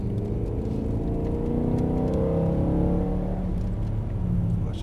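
A 420 hp BMW E92 M3 V8 accelerates on a race track, its loud, close engine drone holding steady with gently shifting pitch throughout and no talking.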